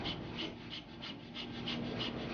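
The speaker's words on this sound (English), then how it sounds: "that is what breath of fire sounds like" Rapid yoga breath of fire: quick, even, forceful in-and-out breaths pumped from the navel, about four per second, close and steady with no talking.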